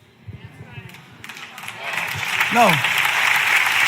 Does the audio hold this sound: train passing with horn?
no